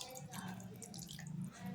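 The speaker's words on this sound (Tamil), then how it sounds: "இந்த ஸ்டேஜில் நம்ம புளிக்கரைசல் கொஞ்சம் ஊற்றிக்கலாம்." Tamarind water poured into a simmering fish curry, a soft continuous pour and bubbling close by, moderately quiet with no talk.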